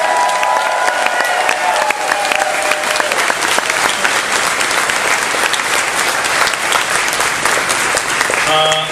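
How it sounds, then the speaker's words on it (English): Audience applause aboard the JoCo Cruise 2019 during morning announcements, dense sustained clapping filling the room nearly throughout, with a voice resuming right at the end. "Just give a lot of applause to Josh."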